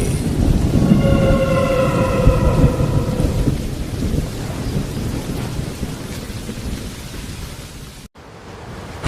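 A heavy thunderstorm rumbles loud and continuous over dense, steady rainfall on a stormy monsoon night, with a brief harmonic ringing tone early on, before the sound cuts out sharply near the end.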